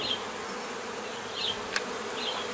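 Honeybees buzz steadily inside an open, healthy colony during a hive inspection, a soft continuous drone with a few individual bees passing close by, no voices.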